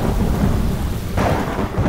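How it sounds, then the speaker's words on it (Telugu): A heavy rainstorm used as a story sound effect: a dense continuous hiss of downpour with a deep rumble of thunder rolling in about halfway through. "అనుకున్నట్టే కొన్ని రోజులకి బోరును వర్షం కురిసింది."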